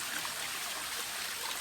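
A thin waterfall at Srisailam, running low after scant rain, gives a soft, continuous rush and trickle of flowing water, fairly faint and unbroken, with no voices.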